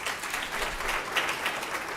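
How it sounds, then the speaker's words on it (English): Audience applause at a 2024 swearing-in ceremony for Sheriff Tim Pounds, a steady wash of many hands clapping in a room, moderately distant and continuous without speech. "a round of applause for him."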